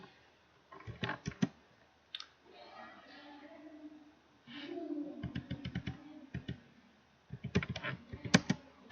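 Keys clatter on a computer keyboard while a document is written in MS Word, with bursts of close clicking alternating with someone speaking Hindi in between.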